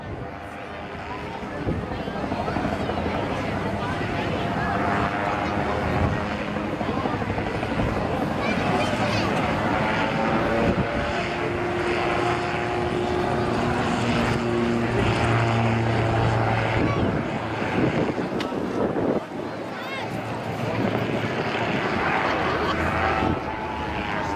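An autogyro with an unpowered rotor flying at the Blackpool Airshow, its steady propeller and engine drone sustained and fairly loud throughout, rising slightly in the middle as it spirals down, with a voice talking over it.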